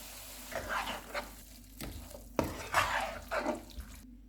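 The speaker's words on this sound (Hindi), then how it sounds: "अब हम चूल्हा बंद कर देते हैं और इसमें क्रीम मिक्स कर लेंगे" Cream is stirred into butter chicken in a pot off the heat, making soft, intermittent wet swishing and scraping strokes with a couple of sharper knocks against the pot over a faint residual sizzle.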